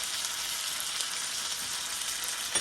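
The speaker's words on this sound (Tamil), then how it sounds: "இப்போ தக்காளி போட போகிறோம்." Chopped tomatoes fry in oil in a pan with a steady, even sizzle close up, with no talking.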